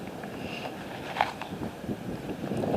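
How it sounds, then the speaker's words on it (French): Strong wind rumbles and buffets the microphone at an abandoned site explored outdoors, a steady broadband roar with faint scattered handling noises, swelling slightly toward the end. "Il y a trop de vent."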